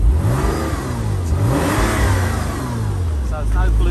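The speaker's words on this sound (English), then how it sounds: "Standard exhaust on this car. The car's completely standard. So check the exhaust." A 1997 Porsche Boxster with a completely standard exhaust revs repeatedly, the engine note rising and falling in loud, close sweeps before settling toward idle.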